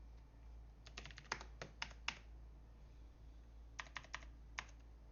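Quiet bursts of typing on a computer keyboard, a cluster of sharp clicks early and another short run near the end, ending with a key press for enter, close by with no talking.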